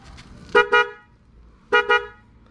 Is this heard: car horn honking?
yes